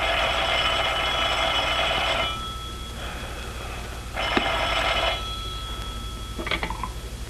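An old-fashioned telephone bell rings in repeated bursts, each ring lasting a second or two with pauses between, over a low background hum.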